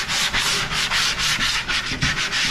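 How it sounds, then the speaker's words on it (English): Sandpaper rubs by hand along the edges of a wooden flat file on wheels, a steady series of about nine close, loud back-and-forth strokes with a brief pause between each. "we're just gonna lightly sand the edges here"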